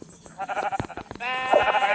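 A Minecraft sheep bleats, a wavering nasal cry near the end, following a short stretch of mixed clicks and voice-like sounds.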